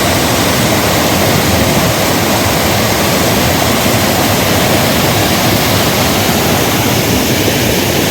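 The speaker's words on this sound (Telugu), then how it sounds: "ఇలా జలపాతాలను దగ్గరలో ఉండి చూస్తుంటే" Overflow water from Chintala lake near Siddipet pours down as a waterfall, making a loud, constant rushing roar that fills the whole stretch without breaks or voices.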